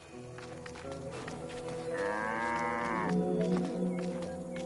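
Cattle mooing in an ancient Egypt domesticated animals exhibit: one long, fairly close low moo rising over quiet background sounds, with no talk.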